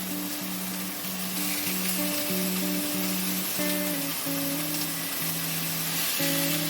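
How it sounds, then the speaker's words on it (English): Chicken wings with ginger and spring onion sizzle steadily in a hot frying pan, a constant crackling hiss that runs throughout with a faint musical tone behind it. "Add already cut ginger and spring onion pieces into the frying pan, and then add the seasoned chicken wings."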